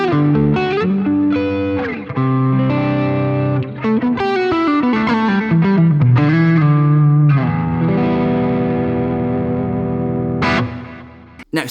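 A PRS electric guitar with humbuckers runs through a Boss GT-1000 effects processor, giving a loud, distorted tone with chorus and reverb as a busy riff of chords and single notes plays on without pause.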